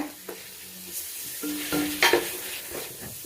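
Ginger and garlic frying in a pan, giving a soft sizzle with scattered stirring scrapes and light clinks, fairly faint and close.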